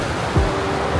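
Ocean waves wash onto the shore at Bolinao, Pangasinan on a morning beach, a steady close rush of surf with one brief swell, no voices.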